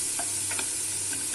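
Onions fry gently in a pan over lowered heat, a soft constant sizzle with a few light scrapes and taps of stirring, close and with no talk.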